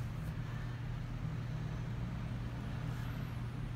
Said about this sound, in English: the garbage truck's going by outside